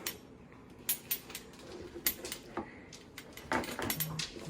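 Two young pet dogs tap their claws on the floor, with scattered light clicks and taps in an uneven rhythm, close by and fairly quiet, mixed with faint kitchen clatter.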